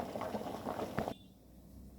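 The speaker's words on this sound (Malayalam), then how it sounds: "നമുക്കിനി വാർത്തെടുക്കാം" Boiling water is drained off cooked tapioca in a home kitchen: about a second of close, quiet splashing and gurgling pour that then cuts off abruptly into near silence.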